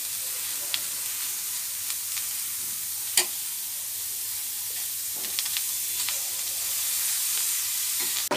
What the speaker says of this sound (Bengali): ওই তাওয়াতেই আমি পটলের সালগুলোকে ভেজে নেব